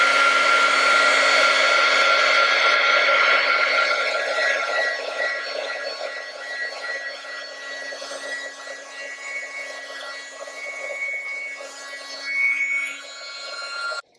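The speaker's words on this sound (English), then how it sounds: "we just use our heat tool to melt the powder" A heat tool blows hot air to melt embossing powder on a journal page, giving a loud, steady whirring hiss that eases slightly partway through, then cuts off at the end.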